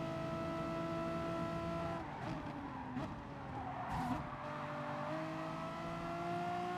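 Race cars in Gran Turismo Sport roar past with sustained engine drone and shifting pitch, brief tire squeals and skids around the middle, loud and continuous with no talking.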